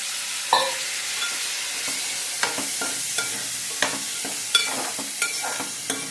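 Mixed vegetables stirred and fried in a pan with spices and garam masala, a constant sizzle broken by a regular series of spatula scrapes and taps against the pan.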